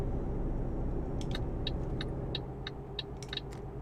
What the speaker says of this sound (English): Come on, truck. Pull away.